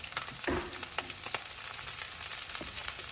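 Chopped green onion hitting hot garlic oil in a pan while making Asian chicken noodles, giving a steady close sizzle with a few brief spatters and crackles and no talking.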